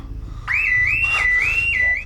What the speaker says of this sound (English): the alarm system starts ringing